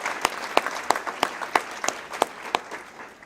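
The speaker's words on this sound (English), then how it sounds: "Let's have a round of applause for all those individuals." Applause from an audience at a mayor's employee recognition awards ceremony honoring long-serving city staff; a small crowd claps in sharp, fairly regular bursts, moderately loud and steady, with no voices over it.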